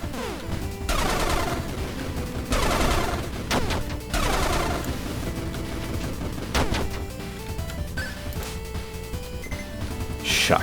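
Rapid bursts of shotgun-style laser fire in the game Star of Providence, crackling volleys in several clusters over game music.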